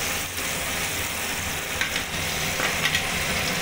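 Potatoes fry with chopped onion and tomato in a pan, giving a steady close sizzle with occasional scrapes and stirring clatter throughout.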